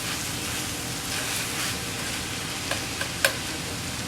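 Shredded cabbage sautéing in a hot pan gives off a steady, dense sizzle and crackle throughout, with a few sharper pops near the end and no voices.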